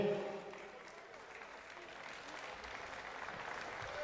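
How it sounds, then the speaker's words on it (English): Audience applause for medal winners and competitors at a national karate championship, a steady, moderately distant clapping across a large hall that holds at an even level throughout. "We have a round of applause for all your medal winners and the various competitors today."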